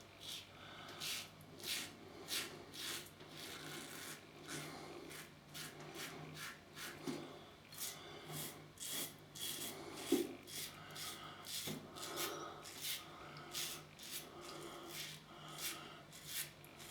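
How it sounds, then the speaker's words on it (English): A Gillette Red Tip Superspeed safety razor shaves across the grain of the hair, giving a close, steady run of short raspy scraping strokes in a regular rhythm with brief pauses, no talk. "It's just shaving right across the growth"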